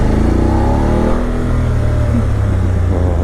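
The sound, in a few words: BMW F850GSA motorcycle engine revving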